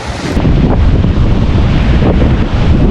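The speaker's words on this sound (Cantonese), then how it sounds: "啊，好大浪啊，好大風。" Strong wind buffets the microphone at a coastal lookout beside the Split Point (Red Cap) lighthouse on Australia's Great Ocean Road, near Melbourne, with heavy surf roaring beneath, loud and continuous throughout.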